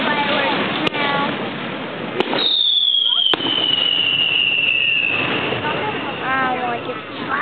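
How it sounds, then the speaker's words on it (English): Fireworks go off over a boat harbor in a few sharp, separate pops, with a long falling whistle midway. People chat excitedly throughout. "I love fireworks now."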